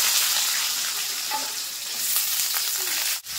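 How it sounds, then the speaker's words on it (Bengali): Potatoes frying in hot oil in a pan just used for frying small puti fish, a loud, close, continuous hiss and crackle with occasional stirring clinks and a brief scrape near the end. "তো ওই তেলের ভিতর কিন্তু আমি এই আলুগুলো ভেজে নেব।"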